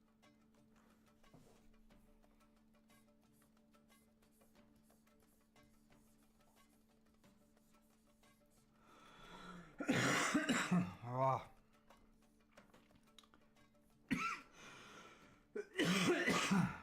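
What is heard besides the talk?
coughing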